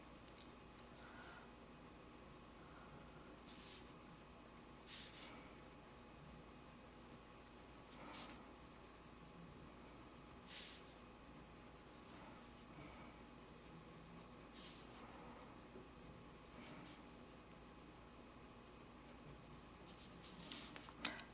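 A sharpened colored pencil drawing a holly leaf on paper makes a steady, faint, close scratching and rubbing, with soft rhythmic strokes running continuously throughout.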